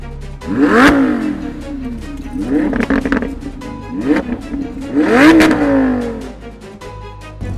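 A Lamborghini Revuelto's V12 engine revs hard above 6,000 rpm in several loud, rising and falling bursts, close and dominant with no talk.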